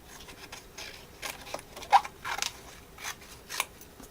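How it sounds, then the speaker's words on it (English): Scissors snipping paper around the edge of a chipboard piece in a papercraft project, a few short close cuts spaced unevenly, fairly quiet. "And then I'm going to cut it out."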